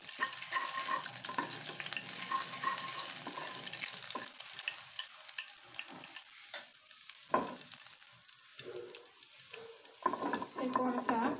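Cumin seeds sizzle in hot oil in a pan, a loud close crackle at first that thins into gaps and then flares again, with short stirring sounds mixed in.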